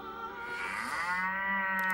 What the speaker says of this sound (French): Espérons que les vaches arrivent.